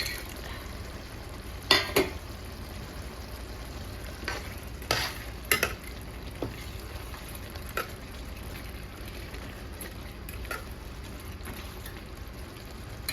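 Dried fish stirred into simmering tamarind gravy in a pot, with a low steady bubbling hiss and a few sharp spoon scrapes and clinks standing out at intervals, no talking.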